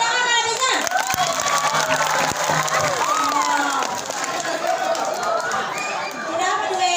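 A village crowd at a children's dance performance claps and cheers loudly, with children's shouts and lively chatter mixed throughout.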